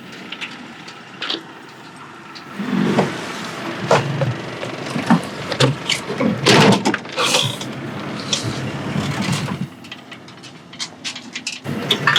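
A vehicle rattles and jolts along a bumpy dirt road in Botswana's Okavango Delta region, with steady rumbling, knocks and creaks throughout at close range and no talk.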